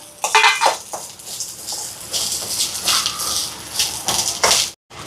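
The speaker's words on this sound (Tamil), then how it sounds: "இப்போ இதை நாங்கள் வறுத்தெடுப்போங்க இந்த ப்ரௌன் கலராக." Spices being dry-roasted until brown rattle and scrape against a metal pan, with irregular clinks and stirring sounds, close and moderately loud throughout.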